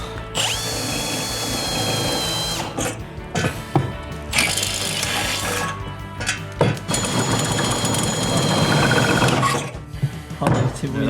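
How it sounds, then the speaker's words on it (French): A power drill bores through a metal plate in a moped exhaust, whining loudly in long runs with brief stops and changes in pitch, close up and with some talk underneath. "Dylan, faut que tu perces au bout pour que ça le dérestreigne"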